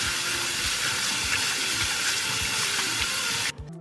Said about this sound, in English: wash the strawberries under a stream of clean water